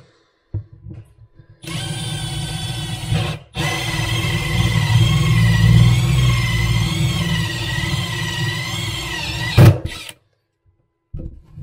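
A power drill whirs steadily for several seconds, close up and rising slightly as it bites into a thick backboard, with short clicks before and after.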